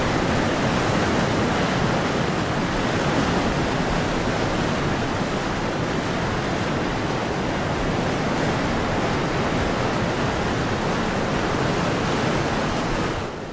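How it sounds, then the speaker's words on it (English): Water rushes steadily at the springs of the Orontes River, a dense, unbroken roar that holds at a constant loud level for the whole stretch with no voices. "Below are the springs that give life to the Orontes River."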